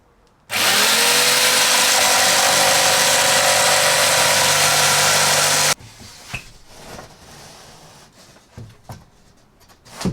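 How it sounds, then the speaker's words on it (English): Jigsaw cutting out a shower panel in a camper van: a loud, steady high-speed motor whine with harsh cutting noise for about five seconds, then it stops, followed by scattered knocks and handling sounds. "I'm going to cut that out with a jigsaw"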